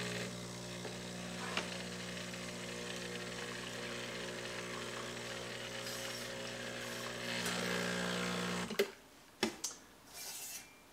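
A Breville Barista Express espresso machine runs with a steady droning hum while heating the cup, then cuts off abruptly, followed by a few close clicks and clatters.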